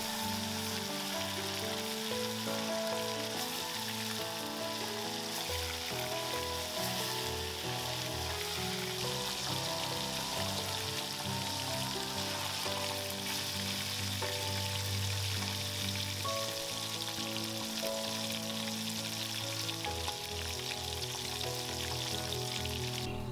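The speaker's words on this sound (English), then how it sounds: "deep fry the fish till they are crisp" Marinated fish deep-frying in hot oil gives off a steady, dense sizzle and bubbling that runs continuously and evenly loud, with no voices.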